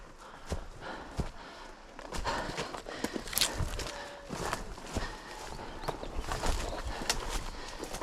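Cattle walk on a hiking trail with irregular hoof thuds and shuffling steps among rustling, steady outdoor noise and no clear talk.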